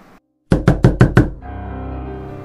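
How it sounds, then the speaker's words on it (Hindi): Five sharp knocks on a door in quick, even succession, loud and close, followed by a sustained low hum with no voices. "कोई दरवाजे पे नॉक कर रहा था"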